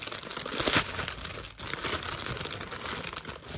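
Plastic packaging around a pack of four new cloths is opened, making crisp crinkling and rustling close by, with a sharper tearing burst near the start and steady handling after it, and no speech.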